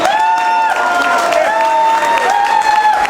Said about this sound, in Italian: Gli applausi sono sempre ben graditi, la nostra benzina.